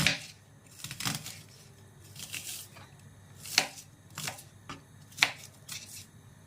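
A knife chops an onion into fairly large pieces on a board, giving about seven or eight sharp, irregularly spaced chops up close with quiet handling between them.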